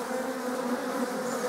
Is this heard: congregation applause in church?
no